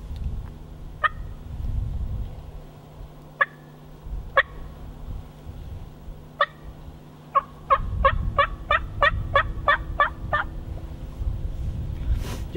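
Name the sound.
hen turkey call imitated on a turkey caller after fly-down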